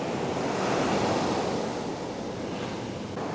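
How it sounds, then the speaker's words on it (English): Ocean waves break on a beach in Barbados, giving a steady, loud wash of surf with a little wind noise and no voices. "Again, that was a nice wave."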